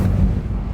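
A burst of flame from the Incendio fire spell in the video game Hogwarts Legacy, a loud, low whooshing roar that fills the short moment.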